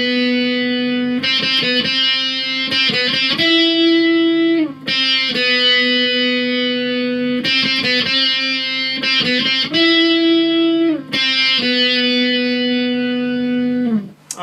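An electric guitar plays the solo from a song with a bright, sustained distorted tone, held notes broken by quick picked flurries and slides, repeating in phrases.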